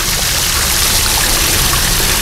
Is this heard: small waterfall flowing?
yes